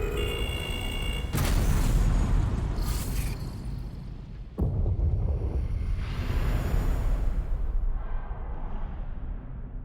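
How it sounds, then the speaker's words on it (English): A huge bomb explosion in the strategy game Into the Breach, loud and broadband, with a sharp blast at about 1.3 s and a second impact near 4.6 s, each followed by a long rumbling roll, no talk. "Very big explosion that you can see, like, that big of an explosion coming off the planet"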